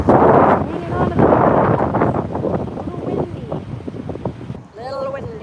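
Strong gusts buffet the microphone outdoors, a low rumbling roar that swells and fades while a person talks over it, easing near the end.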